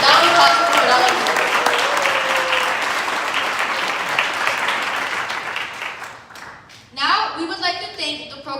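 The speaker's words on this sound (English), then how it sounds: "a round of applause for every single parent here" A ceremony audience gives parents a loud round of applause that swells, then gradually thins out and fades, after which a speaker's voice comes in over the quiet room.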